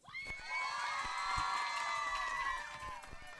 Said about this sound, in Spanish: ¡Aplausos, mis niños!